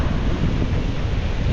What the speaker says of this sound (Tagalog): Lalaki pa rin ng alon.